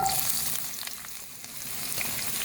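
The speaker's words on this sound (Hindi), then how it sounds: "अब हम प्याज फ्राई करेंगे इसी ऑयल में।" Sliced onions frying in oil left over from frying okra, giving a steady close sizzle with faint stirring scrapes.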